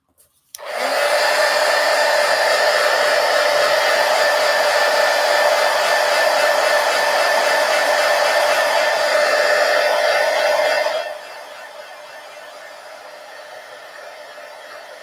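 A hair dryer clicks on and blows steadily over paint in a mixed-media art journal, a loud, close, even whoosh for about ten seconds before dropping to a lower setting.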